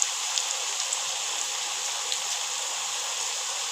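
Thin-sliced potatoes fry in hot oil, a continuous, even sizzle that hisses like steady rain, close and unbroken, with no talking.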